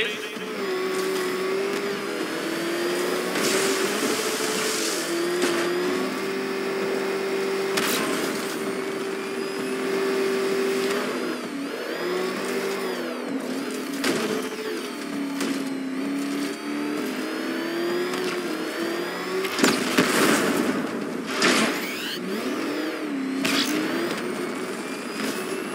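The Batmobile's engine in Batman: Arkham Knight drones and revs steadily, rising and falling in pitch with sharp surges of acceleration, loud and sustained throughout.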